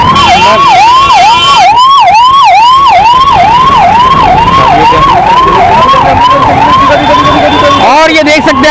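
Ambulance siren wailing loudly in a jammed street, rising and falling in a rapid regular cycle, with traffic rumble and crowd voices underneath and a brief burst of horn-like noise near the end.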